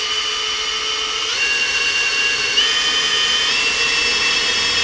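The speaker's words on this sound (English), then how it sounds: "So I'm going to get started and drill these out." A power drill bores out rivets on a Jeep Cherokee XJ door, a steady loud high whine that holds throughout with slight pitch shifts, no talking.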